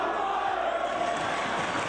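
A wrestling crowd at a Ring of Honor show roars at Jeff Hardy's debut, a dense, steady wall of many voices yelling and jeering, loud and sustained without a break.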